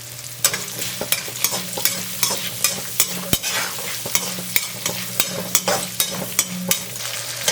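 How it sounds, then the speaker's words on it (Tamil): Small onions fry with a little salt in a pan for a Tamil eggplant curry, a steady sizzle broken by regular scraping and clanking strokes of a spoon stirring roughly every half second, close and clear without speech. "சின்ன வெங்காயம் சேர்க்குறேன்."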